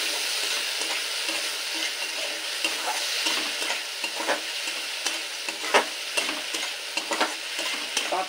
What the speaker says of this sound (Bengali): মশলাটা এই সময় টমেটোর সাথে ভালো করে কষিয়ে নেব